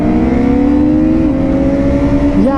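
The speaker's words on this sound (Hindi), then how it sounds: "भाई लॉन्च करते हैं बाइक को इन 3," A 2026 KTM Duke motorcycle launches hard for a 0 to 100 run, its engine revving up loud and close in a steady rising whine that drops briefly at a quickshifted gear change before climbing again.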